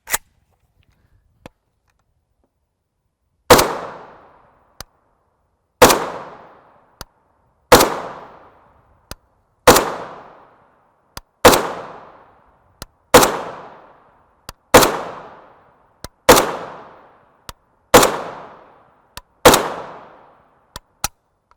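A Palmetto State Armory GF3 16-inch rifle with a muzzle device fires Global Ordnance 7.62x39mm 123-grain steel-case FMJ at an outdoor range, about ten sharp, loud shots spaced roughly every second and a half, each followed by a short decaying echo.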